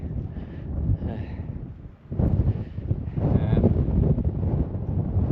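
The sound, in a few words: strong wind on mountain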